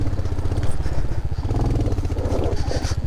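Royal Enfield Hunter 350 motorcycle engine labouring loud and close in first gear on a rocky off-road mountain climb, a steady throbbing thump that continues throughout with brief surges.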